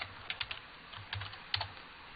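Keystrokes on a computer keyboard while typing a short script command, with several quick soft clicks clustered in bursts and a sharper tap near the end, heard up close in a quiet room.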